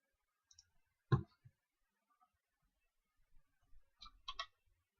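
A computer mouse clicks sharply a few times in a quiet room, one louder single click followed later by a small cluster of quicker clicks, with long silences between.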